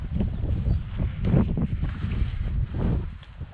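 Outdoor wind at a caravan site while an awning is being set up, a low rumbling gusty buffeting that swells and fades against the microphone, moderately loud with no talking.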